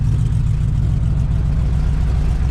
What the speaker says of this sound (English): motor's running